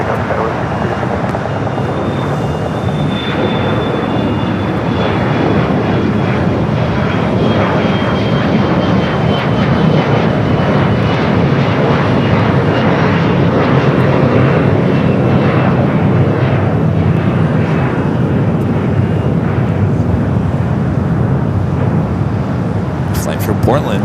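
A SkyWest Embraer E-Jet takes off from runway 25 right at LAX, its engines roaring loudly and steadily throughout while a voice talks over the noise.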